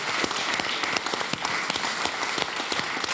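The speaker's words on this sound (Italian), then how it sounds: "Un bel applauso più forte." Applause from a crowd at a live broadcast of the Santa Rita feast in Cascia, with dense, steady clapping that continues evenly for the whole stretch with no talk over it.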